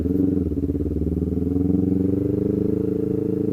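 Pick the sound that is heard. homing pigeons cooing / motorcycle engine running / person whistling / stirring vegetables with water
motorcycle engine running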